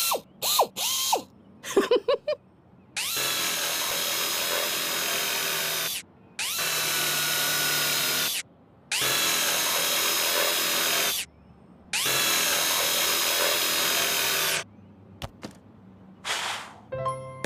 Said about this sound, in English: my favorite sound is the zip, zip, zip of my drill